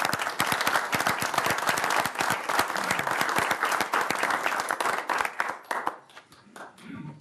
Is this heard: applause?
yes